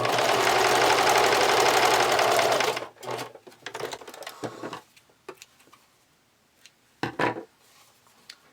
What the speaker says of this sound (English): And again, always using a zigzag stitch. Stretching as I go.